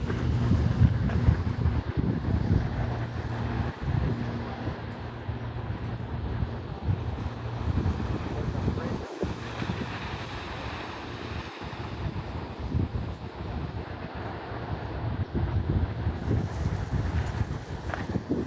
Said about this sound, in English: the crashing of the waves sounds so amazing